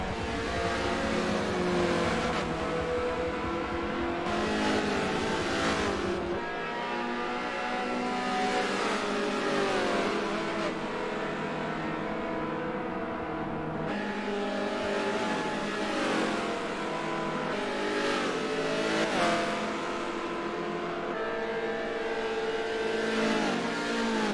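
A Fiat X19 race car engine in a Forza race, droning steadily with rising and falling revs as gears change, loud and continuous throughout with no talk.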